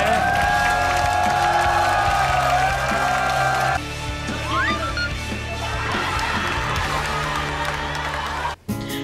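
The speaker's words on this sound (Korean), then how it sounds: "여러분, 음악대장님께 다시 한번 축하의 박수를 부탁드립니다." A studio audience at the King of Masked Singer TV singing competition applauds and cheers for the champion, a steady dense crowd roar blended with sustained musical tones that continues almost unbroken before a brief dropout near the end.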